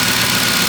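A 2010 Ford Expedition's 5.4 Triton 3V V8 idles steadily after a timing chain and cam phaser replacement, a close, loud, even rumble with no talk over it.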